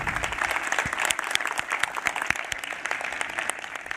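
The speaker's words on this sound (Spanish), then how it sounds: "Un aplauso para él." An audience at an international youth summit applauds a young representative from El Salvador after his talk: sustained, moderately distant clapping from a crowd with scattered sharper claps throughout.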